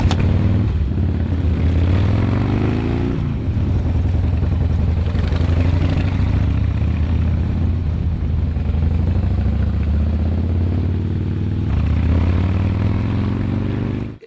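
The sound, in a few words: Harley-Davidson motorcycle engine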